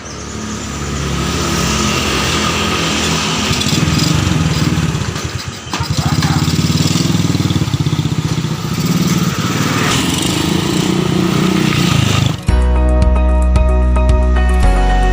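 A motorcycle engine runs steadily and close by for about twelve seconds with a constant droning hum, then abruptly gives way to a different, tonal sound. No one speaks.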